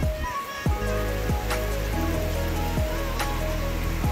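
Heavy rain pours down steadily during a storm, a dense, continuous hiss that stays close and loud throughout, with some tonal sounds rising and falling over it.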